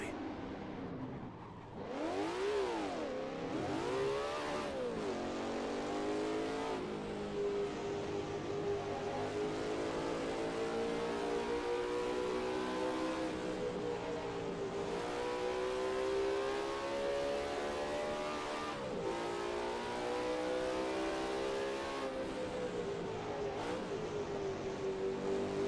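A Porsche race car, the kind once banned from IMSA, revving hard around a track, its engine pitch sweeping up and down through gear changes and corners in a continuous loud, close drone.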